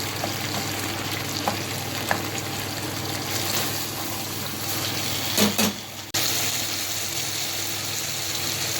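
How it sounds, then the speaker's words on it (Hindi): Tomatoes fry in a pan for a chicken karahi, giving a continuous close sizzle with faint stirring and scraping, plus a short clatter near the end. "अब हम इसे भून लेंगे।"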